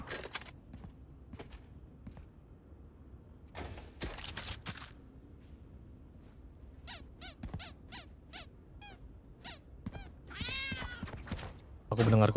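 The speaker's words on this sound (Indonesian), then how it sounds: "Aku mendengar kucing." A cat meows repeatedly during a VALORANT session, a series of short, bright, separate mews in an uneven rhythm, fairly close, with clicks and other game sounds between them.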